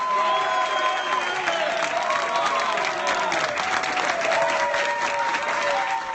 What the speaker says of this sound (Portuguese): Nassar foi aplaudido por alguns e vaiado por outros.